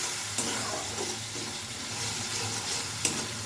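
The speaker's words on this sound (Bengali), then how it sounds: "এবারে মশলাটা খুব ভালো করে মিশিয়ে নেব এবং কষিয়ে নেব।" Masala paste with red chilli powder being stirred and fried in a pan for malai potol: continuous sizzling with steady scraping strokes of the spoon and a couple of sharper clinks, alone and close.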